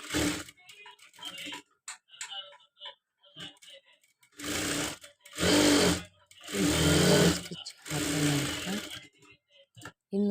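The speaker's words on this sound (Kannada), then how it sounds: "ಇನ್ನೂ ಈ ಥರ ಡಬಲ್ ಸ್ಟಿಚ್ ಹಾಕ್ಕೊಳ್ಬೇಕು" A sewing machine running in bursts while double-stitching the front part of a blouse, with several short and longer runs separated by pauses, close and fairly loud.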